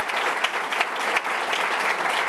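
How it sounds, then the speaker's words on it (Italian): Applause from the audience at a choir performance fills the room in a dense, even roar of clapping, with a few sharper claps popping out, steady and fairly loud. "Quindi credo che l'applauso ve lo potete fare dopo questa presentazione"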